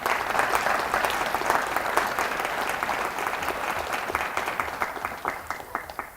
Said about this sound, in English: can we give a round of applause to all of the presentations we've heard so far?